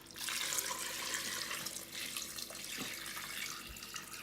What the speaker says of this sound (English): Now we have to put water